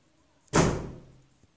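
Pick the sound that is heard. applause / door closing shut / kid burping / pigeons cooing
door closing shut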